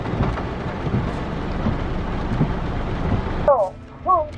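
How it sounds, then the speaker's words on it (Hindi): Steady heavy rain hisses and drums for several seconds, then a voice briefly speaks over the downpour near the end. "अभी बहुत तेज़ बारिश हो गई स्टार्ट फिर से"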